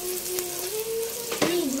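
Garlic and onion sautéing in a pan after tofu has been fried, a steady soft sizzle with a couple of brief stirring scrapes and a faint tonal whine underneath, no voices.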